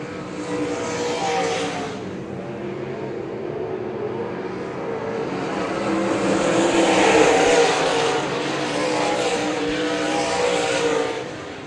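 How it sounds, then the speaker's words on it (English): Race cars on an oval track, three wide through a turn at the finish: a dense, continuous engine roar that swells as the pack passes nearby and stays loud throughout, with no talk. "Watch the action. 3 wide over turn 2 as the checkered flag comes out for Jared Steens."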